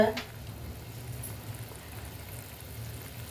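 A tomato and chilli curry bubbles in a pot on the stove, a faint, steady simmer after a brief louder clatter at the very start.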